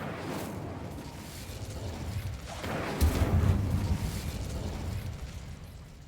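Casting the Incendio fire spell in Hogwarts Legacy brings a rushing, roaring burst of flame over steady combat noise, with a heavier whooshing surge about halfway through that slowly dies away.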